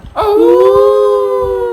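In a comedy sketch, a person imitates a dog's howl with one loud, close, sustained wavering cry lasting about a second and a half.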